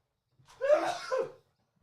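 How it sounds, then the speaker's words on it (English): A single sharp sneeze, close and fairly loud, with a short breathy lead-in and quiet before and after. "I just had to sneeze"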